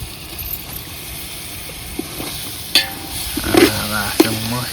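Curd for dum biryani sautéing in a pan over a wood-fired clay stove, a quiet hiss and sizzle with scattered scraping stirs that grow busier and louder toward the end, with no speech.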